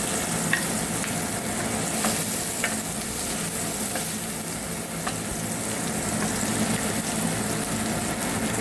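Onion and garlic sizzling in oil in a pan as a base for seafood pasta, a steady close frying hiss with occasional stirring taps and scrapes, no talking.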